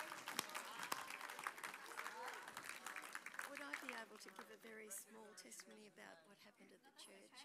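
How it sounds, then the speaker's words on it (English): A church congregation applauds during a Sunday service, with a burst of scattered clapping and cheering that soon fades under voices talking and calling out over the top. "Give them a round of applause this morning as they go."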